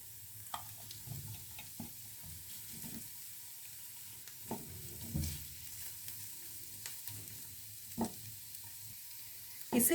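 Mushroom filling and chopped blanched spinach sautéing in a pan, giving a faint, quiet sizzle punctuated by soft scattered taps and scrapes of stirring.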